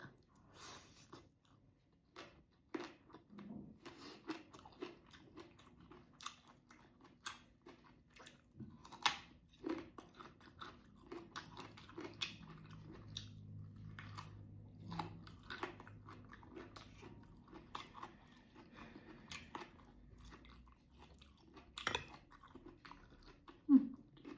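Someone eats rice with shrimp paste chili dip, omelette and vegetables, producing soft, close, irregular chewing and crunching sounds in a quiet room with no talking.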